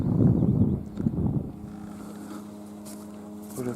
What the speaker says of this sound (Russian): на лодках бегают